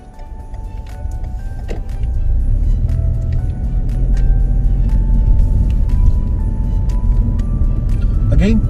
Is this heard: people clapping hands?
no